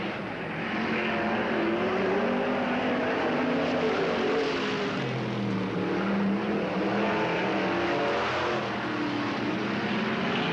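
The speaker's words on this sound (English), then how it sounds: "Buddy Murphy's Ford 360, throwing a little bit of smoke out the back." IMCA Modified race cars with Ford 360 engines roar around the Cottage Grove Speedway dirt oval, a continuous loud engine drone rising and falling as the pack races bumper to bumper, heard from trackside.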